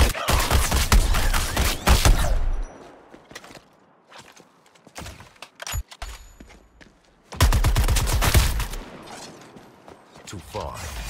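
Bursts of rapid gunfire from the video game Suicide Squad: Kill The Justice League, loud automatic volleys at the start and again later, separated by quieter stretches of clicks, mechanical sounds and single shots.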